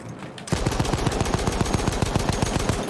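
Rapid automatic gunfire from a weapon in Battlefield 1, a steady fast burst of evenly spaced shots after a brief quiet start, loud and close.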